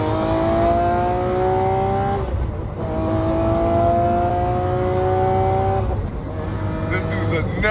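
McLaren 720S supercar accelerating hard, a loud rising engine roar through two long pulls with gear changes between, close and dominant while people talk in the cabin.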